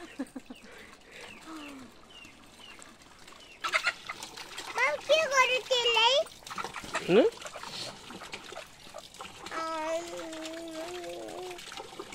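Two local village chickens cluck and squawk in bursts of short, rising calls, close by and fairly loud, mixed with people talking nearby.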